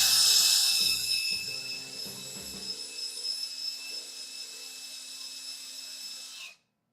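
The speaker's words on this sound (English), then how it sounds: "So let's do some countersinking, because I think that countersinking helped a lot." A power drill countersinks holes in wood during a woodworking build, giving a loud, steady high-pitched whine with a lower motor rumble. It runs for about six seconds, then cuts off abruptly, with no talking.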